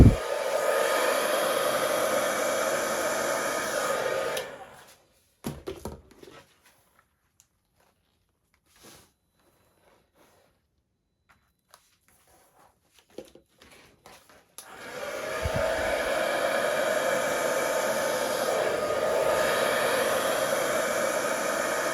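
Air is blown steadily over acrylic Dutch pour paint in two long, loud, hissing bursts separated by a quiet pause. Only faint handling noises fill the gap between them.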